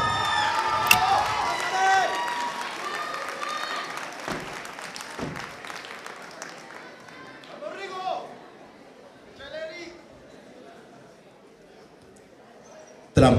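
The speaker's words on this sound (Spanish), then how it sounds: "¡Fuerte el aplauso!" At a salsa dance event in Mexico City, a crowd claps and cheers for a dance group, loud at first and then thinning out, with shouts and chatter running through it and a few scattered claps near the end.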